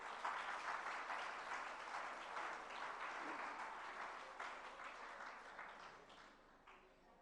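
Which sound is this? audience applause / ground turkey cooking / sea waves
audience applause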